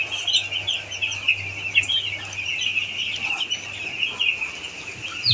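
Chickens kept in a newly built coop give a continuous stream of overlapping clucks and chirps at moderate distance, with a faint low hum running beneath them and no talk.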